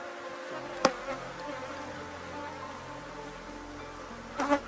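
Honey bees drone steadily around an open beehive during a colony inspection, a continuous close buzzing hum with a couple of brief sharp knocks from handling the frames and no speech.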